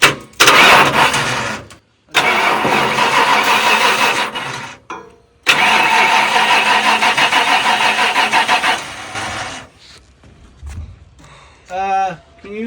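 A $500 OBS Ford F-250 pickup engine cranks loudly in three long, close bursts separated by short gaps, then runs unevenly before fading, with voices talking near the end.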